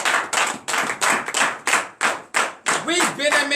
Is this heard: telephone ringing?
no